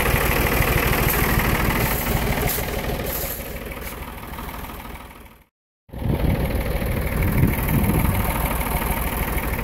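A heavy tractor engine idles and chugs steadily nearby on a forest road, with a short cut to silence midway before the rumble resumes.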